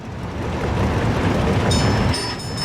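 A train rolls along rails in the Workers & Resources: Soviet Republic game, a loud steady rumble with a brief high whistle-like tone near the end.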